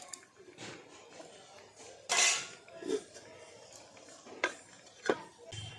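A lid set onto a cooking pot of simmering pumpkin for pur pitha, a sharp metallic clank followed by a few softer knocks and clinks, close and quiet in a kitchen.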